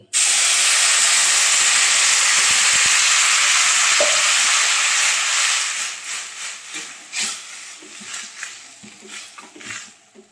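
Water poured into a pot of mung dal cooking with vegetables sets off a loud, hissing burst of steam and sizzle. After about five seconds it fades into quieter bubbling and stirring sounds.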